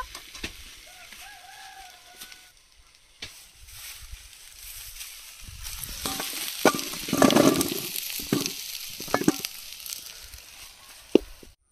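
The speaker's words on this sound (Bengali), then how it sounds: "ওলগুলো 2-3 মিনিট কষিয়ে নিয়েছি, এবার নামিয়ে নেব।" Chunks of elephant foot yam fry and get stirred in a pan outdoors, a soft sizzle under scraping and clattering that swells in the middle, with a short stretch of talk near the start.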